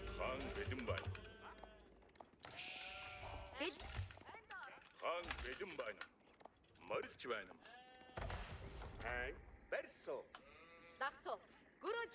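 Repeated sheep bleats in the Age of Empires IV strategy game, several overlapping calls near and clear, interspersed with someone talking through much of it.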